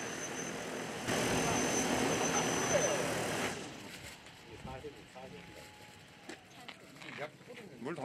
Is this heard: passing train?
no